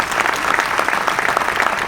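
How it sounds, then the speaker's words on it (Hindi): Audience applause at a seminar talk, dense steady clapping from a crowd, close and loud for the whole stretch. "अभी आप ताली बजा रहे हो ना"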